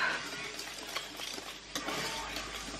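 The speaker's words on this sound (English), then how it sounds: "So we are whisking this up." Pancake batter is whisked in a bowl, producing a continuous close, soft swishing with faint rhythmic clicks of the whisk against the sides, steady and without speech.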